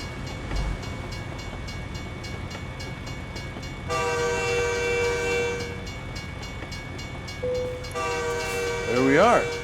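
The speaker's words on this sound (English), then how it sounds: "Oh, there's a passenger train, like an Amtrak coming through here." A passenger train like an Amtrak rolls through a rail yard at Pocatello, Idaho, in American Truck Simulator, with a steady rumble of the cars and sustained horn blasts sounding twice, then a rising tone near the end.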